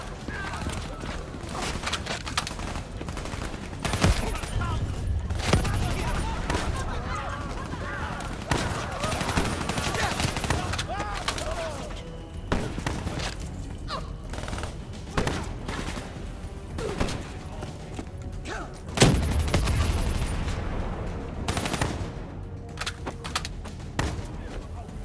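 Dense, continuous gunfire from an enemy gunner in the Call of Duty Black Ops 3 video game, with rapid rattling bursts layered over a busy battle din for the whole stretch and a sharper, louder volley near the end.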